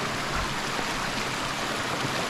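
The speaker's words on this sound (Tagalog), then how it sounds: "ito yung unang batis na madadaanan niya" Water rushes continuously in a small mountain stream along a hiking trail on Mt. Kapigpiglatan in San Narciso, Zambales, a steady close broadband flow with no voices.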